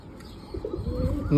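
A pigeon of the chila breed gives a short low coo, close and fairly soft, in a brief quiet moment without talk.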